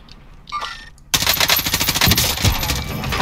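Automatic gunfire in the video game Call of Duty Warzone, a sustained burst of rapid shots that starts abruptly after a brief quieter rustle and keeps rattling loudly to the end.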